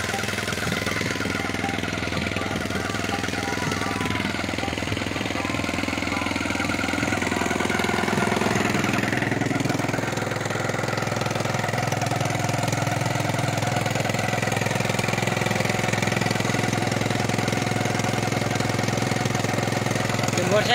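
A motorcycle engine drives a homemade jugaad machine in Faisalabad, chugging steadily and loudly at a constant pace for the whole stretch, with faint voices now and then in the background.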